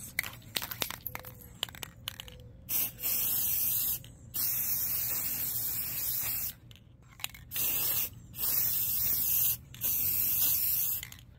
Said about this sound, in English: I decided to go with the clear coat, the Rust-Oleum